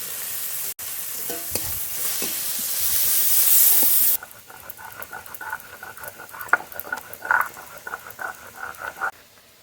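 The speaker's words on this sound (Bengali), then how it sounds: "পেঁয়াজ কুচি টমেটো কুচি একসঙ্গে একটু ভেজে নেব" Chopped onion and tomato fry together in a pan with cumin seeds and dried red chilli, a steady sizzle at first that drops to quieter crackling and scattered stirring scrapes near the pan.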